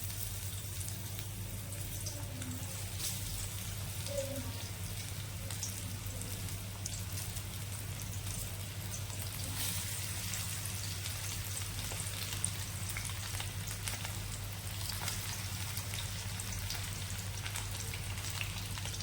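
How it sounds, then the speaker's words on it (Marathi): Fish shallow frying in hot oil gives a steady, dense sizzle and crackle that holds at an even level throughout, with a constant low hum underneath and no voices. "मी याच्या शॅलो फ्राय करून घेणार आहे."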